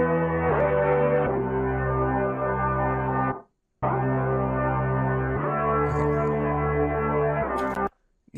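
Demo instrumental with a steady, sustained bass line layered under a constant wash of white noise, loud and continuous, breaking off briefly near the middle before resuming and then cutting out at the end.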